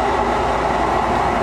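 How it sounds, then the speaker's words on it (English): Steady rumbling interior noise of a passenger train in motion, a continuous broadband roar with low hum, heard from inside a carriage with no talk. "We're on a train again here."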